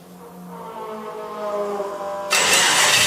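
A 1973 Ford XB Coupe with a twin-turbo 4.5-litre V8 runs in a rough mid-pitched idle and then fires into a sudden loud roar near the end, filling the sound alone without talk.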